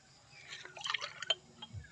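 Water from a cut banana trunk drips and splashes as it is scooped up, with a few soft, close liquid trickles and plops in a quiet outdoor setting.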